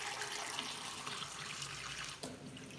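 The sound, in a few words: water running from sink tap filling glass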